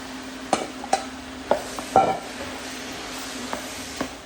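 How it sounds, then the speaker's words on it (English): Courgettes tipped into a hot pan for traditional ratatouille, with a low steady sizzle under several sharp utensil knocks and scrapes as the vegetables are stirred, close and moderately loud. "Let's add the courgettes."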